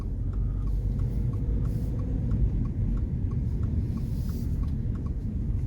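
The cabin of a 2023 Subaru BRZ fills with a steady, loud road rumble and engine drone as it drives on local roads. A faint regular ticking sits above the constant low noise.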